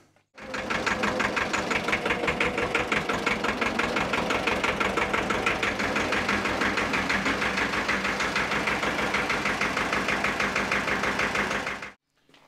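A Deutz D30 tractor engine runs steadily and close for about twelve seconds, a rhythmic, knocking diesel chug that stays even in loudness from start to stop, with no talking.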